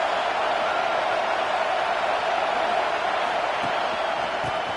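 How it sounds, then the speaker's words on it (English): A football stadium crowd roars in a loud, sustained, dense wash of noise that holds steady throughout, with no distinct individual voices standing out. "Listen to this crowd just shaking the girders of this place,"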